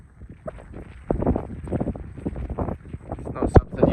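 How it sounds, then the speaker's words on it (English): Gusty wind buffets the microphone outdoors on a rainy moor among standing stones, rumbling in uneven bursts that grow stronger, with a sharp knock near the end. "Windy."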